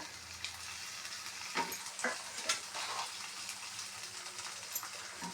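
Onion, tomato and coriander fry gently in a pan with salt added, giving a faint, steady sizzle with a few soft clinks and stirring scrapes.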